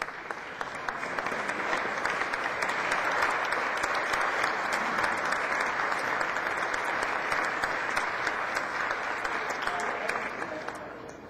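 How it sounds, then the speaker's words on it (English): Sustained applause on the House floor for a visiting mock trial team, a steady dense wash of many hands clapping from start to finish, fairly distant and even in level. "So give them a round of applause"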